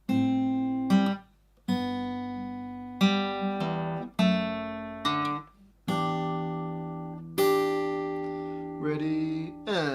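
An acoustic guitar plays the first two bars of a song slowly, with a series of ringing strummed chords, each struck cleanly and left to decay before the next, close and clear with no talking.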